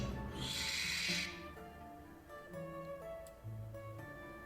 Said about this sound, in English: But then came the barn owl